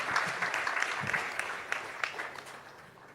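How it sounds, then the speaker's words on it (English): A burst of clapping from a room full of people after a panel discussion, steady and fairly loud, tapering off toward the end. "Can I have a round of applause for an excellent, outstanding panel?"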